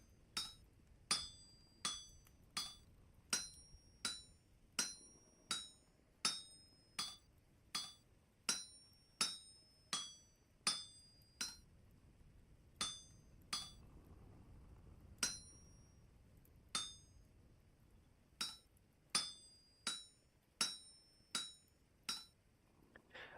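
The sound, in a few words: hammering metal in the video game Vintage Story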